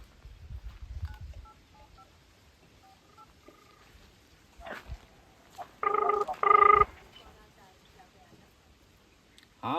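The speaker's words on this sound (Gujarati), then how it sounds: "કાળિયાને ગુરિયાને ફોન કરવો પડવાનો હવે" A phone number is dialed on a keypad, giving a few faint, short beeps early on and then two louder, longer tones, with quiet background chatter around them.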